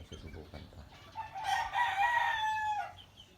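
A rooster crows once, loud and close, in a long drawn-out call that rises and then trails off, following brief low background sounds.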